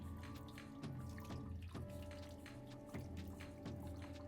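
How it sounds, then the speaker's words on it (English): Dentures rinsed under a running tap in a clinical denture-care setting, with a steady gush of water splashing into a sink throughout, interrupted by a few louder splashes and knocks as the dentures move through the stream. "You rinse the dentures"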